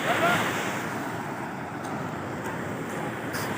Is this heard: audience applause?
no